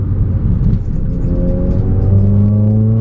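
Car engine revving hard up close, a loud rumbling drone whose pitch climbs steadily as it accelerates, filling the whole moment with no talking.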